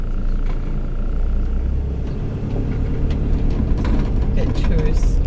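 A car pulls away from a parking lot near the Golden Gate, its low engine rumble steady and fairly close amid outdoor background noise.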